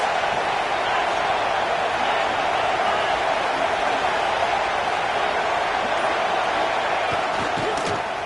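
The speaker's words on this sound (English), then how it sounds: "This crowd trying to make life miserable for this offense." Steady wash of stadium crowd noise in a college football video game, a dense continuous roar holding evenly throughout with no clear peaks, sounding broad and distant rather than close.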